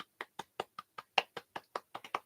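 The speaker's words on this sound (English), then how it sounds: "You don't need to clap for yourself." A single woman claps her hands about a dozen times in a steady, slightly uneven rhythm, each clap sharp and close, with quiet gaps between them and no talking.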